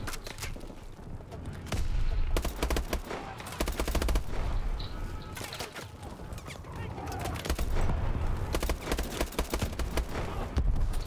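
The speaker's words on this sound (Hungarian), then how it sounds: "mi a faszom lövöldöz minket?" Dense bursts of rapid gunfire from a futuristic shooter game, Call of Duty: Advanced Warfare, crackling repeatedly in loud volleys that fill the whole stretch, with players talking over the shooting.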